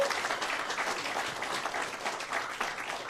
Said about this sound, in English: let's give Deborah a round of applause